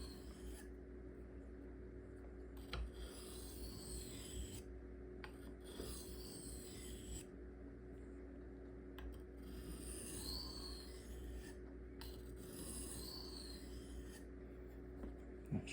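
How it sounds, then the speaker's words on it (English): A knife sharpened freehand on fine sharpening stones, quiet repeated rasping strokes in a regular back-and-forth rhythm with short pauses between passes, close and soft. "these finer stones will help to reduce the bevel"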